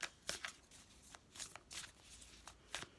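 A Moonology oracle card deck is shuffled by hand, a series of quick papery riffles and soft slaps in irregular bursts, close and fairly quiet, with no talking.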